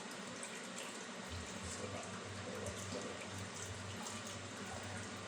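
Hot water runs steadily from a tap, a continuous hiss and splash that stays even in level throughout.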